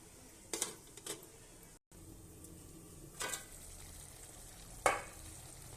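Curry sautés in a covered pan with a faint, low sizzle throughout, broken by a few soft clinks and brief crackling bursts.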